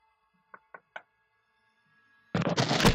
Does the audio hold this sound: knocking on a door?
yes